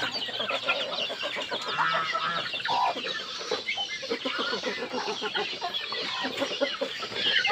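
Bangkok-village crossbreed chickens, a Bangkok sire crossed with village hens, cluck continuously as a dense flock close by, with overlapping calls and no break in the sound.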